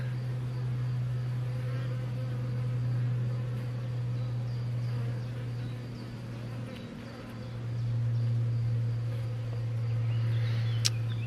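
Honey bees swarm thickly over a well-populated hive frame full of honey and drone brood, their dense, continuous buzz filling the clip at close range with a steady drone that swells and dips slightly, no talk.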